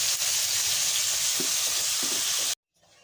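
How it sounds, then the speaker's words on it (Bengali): Fish sizzles steadily as it fries in hot oil for about two and a half seconds, with faint stirring knocks underneath, then the sound cuts off abruptly into near silence. "মাছগুলো ভালো করে নাড়ি করে ভেজে নেব মাছটা সুন্দর করে"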